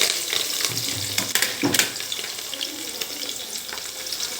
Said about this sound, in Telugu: ఉల్లిగడ్డ వేసేద్దాం ఆయిల్ కాగిపోయింది